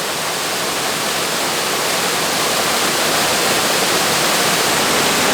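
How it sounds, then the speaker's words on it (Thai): Steady broadband roar of Huai Kaeo waterfall in Chiang Rai, Thailand, a constant close rush of falling water filling the whole scene without a break and with no voices. "ตอนนี้เรายืนอยู่กันที่บริเวณน้ำตกห้วยแก้วนะฮะอำเภอเมืองจังหวัดเชียงราย"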